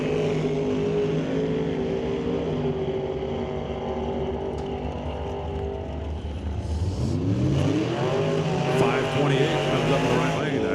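Two drag cars, a Chevrolet Camaro and a Ford, rev and launch at an NHRA Top Comp race, a steady loud engine roar that rises into sweeping revs near the end as they pull away, with crowd noise and a voice over the engines.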